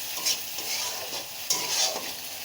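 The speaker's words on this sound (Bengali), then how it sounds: "লবণটা দিয়ে একটু নাড়াচাড়া করে দেবো।" Tomatoes with salt are stirred in a sizzling frying pan, a steady hiss under two or three scraping spatula strokes, close and fairly loud.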